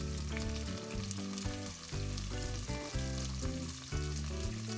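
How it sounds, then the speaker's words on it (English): Leeks sautéing in a generous amount of oil in a pan, producing a strong, steady sizzle that runs continuously beneath background music. "Leeks in. Let them saute."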